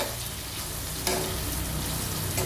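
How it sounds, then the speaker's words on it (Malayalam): Biryani ingredients stirred in a hot pan of oil over a low flame make a continuous frying hiss with a scraping stir, a brief louder clatter partway through. "ഒന്ന് മിക്സ് ചെയ്ത് കൊടുക്കാം"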